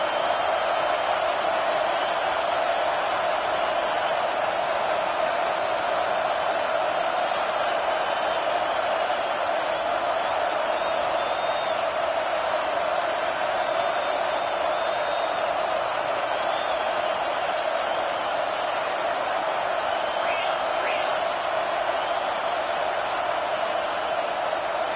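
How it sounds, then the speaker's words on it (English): Dense, steady roar of a stadium crowd at a college football game, Penn State, held loud and unbroken for the whole stretch with a faint rise of whistles and shouts over a fourth-down play, no clear talk on top. "this crowd is making it miserable on this offense"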